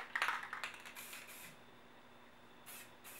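Light bursts of spray paint hiss briefly over a camouflage stencil, a few short quiet puffs close by followed by faint fading hiss, no voices.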